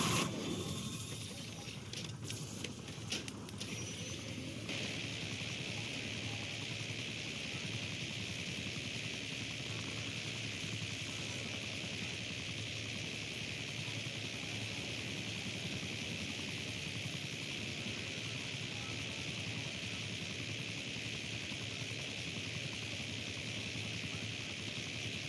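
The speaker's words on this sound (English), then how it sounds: "I got a chopper gunner." Chopper gunner helicopter in Black Ops 6 Zombies, a steady rotor and engine drone with a broad hissy wash that runs continuously and fairly loud, with a few sharp bursts near the start.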